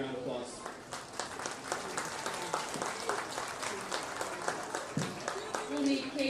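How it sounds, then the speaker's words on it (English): An audience at a county festival livestock show ring claps steadily in a loose, moderate round of applause, with some voices mixed in. "Let's give that young man a round of applause."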